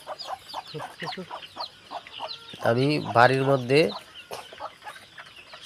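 Native desi chickens raised naturally at home cluck through the clip, with one louder, drawn-out call in the middle. Someone speaks over the birds at the start and again at the end.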